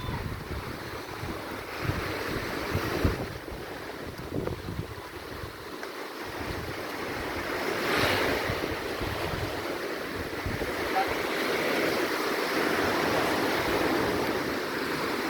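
Wind gusting across the seashore with waves washing in, a steady broadband roar with microphone buffeting and occasional surges, fairly loud and continuous throughout.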